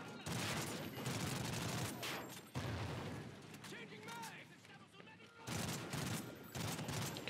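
Dense gunfire rattles in a Call of Duty: Ghosts campaign battle, loud bursts of automatic fire filling the opening and closing seconds with a quieter stretch of scattered shots and effects between.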